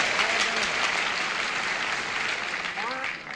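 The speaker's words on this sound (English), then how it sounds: "Hurts me to hear him applaud." Studio audience on a 1977 game show claps steadily, a dense, even wash of applause heard close, with voices talking and calling out over it.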